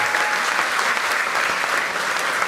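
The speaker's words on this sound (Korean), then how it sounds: "여러분 축하의 박수 크게 부탁드리겠습니다." Congratulatory applause rises in the South Korean National Assembly, a steady, dense patter of many hands clapping, even and loud from start to finish.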